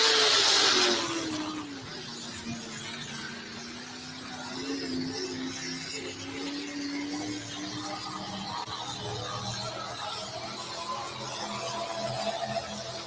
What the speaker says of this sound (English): Sounded like the Joker tractor might have been having a little bit of a misfire there.